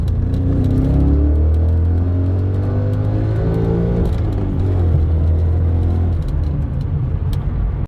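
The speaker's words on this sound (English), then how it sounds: "This car drives pretty good for what it is." A high-mileage BMW E39 M5 on the road, its engine drone rising and falling steadily with gear changes and a constant low rumble of tyres and cabin noise, with no talking.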